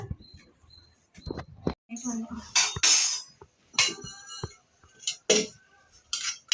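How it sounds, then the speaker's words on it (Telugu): A knife chopping ginger on a cutting board, a series of sharp irregular taps and knocks, close up, with someone talking over the chopping throughout. "ఇప్పుడైతే అల్లం కట్ చేస్తున్నా"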